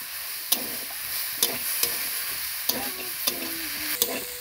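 Vegetable momo filling sizzles steadily in a pan while a spoon stirs it, with sharp scraping knocks against the pan at irregular intervals, close and fairly loud, without talk.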